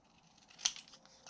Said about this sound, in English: Then I'll take my scissors